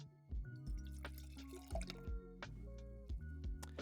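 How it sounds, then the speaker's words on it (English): Wine poured from a bottle into a glass before a tasting, a close, gurgling liquid stream with uneven glugs and drips over about four seconds, with no talk. "I'll just pour myself a little bit of this wine and we'll start the tasting."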